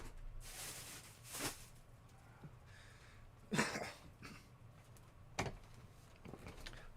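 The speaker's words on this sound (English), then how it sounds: "I can't get rid of this cough" A lingering cough after COVID: several short, rough coughs and throat-clearing bursts spaced out over quiet room noise, fairly soft and close.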